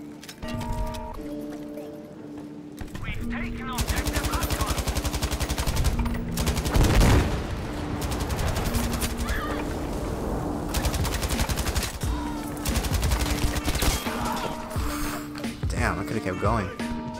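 An MG-34 machine gun fires in long rapid bursts in Battlefield V, a dense rattling stream of shots over music with short pauses between volleys.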